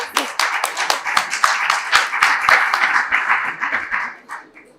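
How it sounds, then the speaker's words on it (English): An audience at the Africa House gathering during WEF Davos 2024 gives a brisk round of applause, with sharp individual claps standing out in the dense clapping before it thins and fades near the end. "Let's give her a round of applause."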